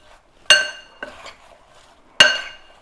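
A utensil stirs apple pie filling with arrowroot powder in a bowl, giving three bright clinks against the dish, two sharp and one softer, close and isolated against quiet.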